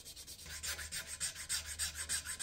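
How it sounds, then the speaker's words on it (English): Edges of a rat wakebait lure are filed smooth by hand, with rhythmic back-and-forth rasping strokes, about a dozen, close and steady with no voices. "I also file the edges smooth by hand and give a slightly frosted polish to the edge by sanding it up to 1000 grit"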